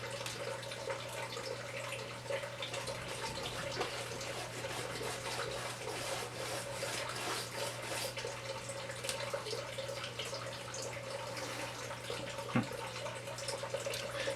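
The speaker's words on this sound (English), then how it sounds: "You can hear the water dripping back there from the actual sump pump" Steady trickling and dripping water from a sump pump in the background, constant for the whole stretch over a low hum, with no talking.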